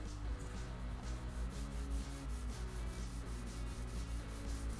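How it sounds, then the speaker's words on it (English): A gray Scotch-Brite pad rubbed along a vintage Fender Telecaster Custom neck with a thick poly finish during a refret, giving a steady, continuous close scrubbing sound throughout. "In between 1000 and 1200, I use a gray Scotch-Brite pad."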